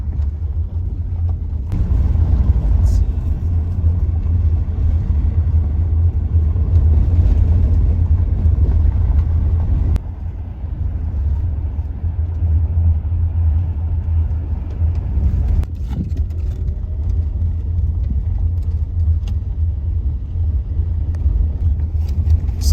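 A small two-wheel-drive car rolls along an unpaved dirt road in northern Arizona, its engine and tyres making a steady, loud low rumble with faint crunching of gravel throughout.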